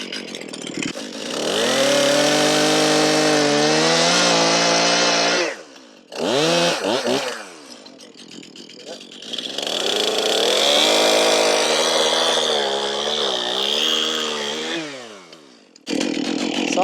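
A freshly sharpened chainsaw cuts through small branches of leaning trees, its engine revving to a loud, steady whine, dropping briefly to idle twice between cuts, close by with no talking.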